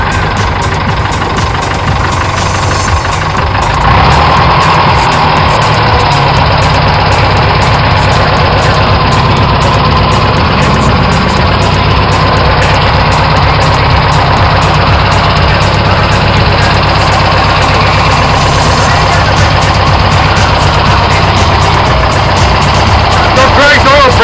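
A 1974 Leyland 255 classic farm tractor idles close by, a loud, steady low diesel chug and rumble running throughout with little change, with brief talk over it.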